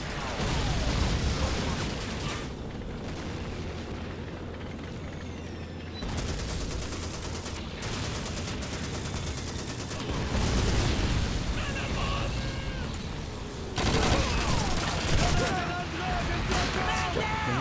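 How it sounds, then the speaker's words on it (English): Gunfire and explosions from the video game Call of Duty 2, including sniper rifle shots, come in dense repeated bursts over steady battle noise while someone talks throughout. "I'm getting shot at by that guy right over there."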